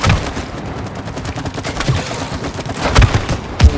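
Rapid gunfire in the co-op video game It Takes Two, a dense fusillade of close shots with a few heavier thumps in a short burst, no talk.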